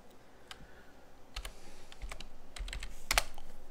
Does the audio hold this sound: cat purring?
no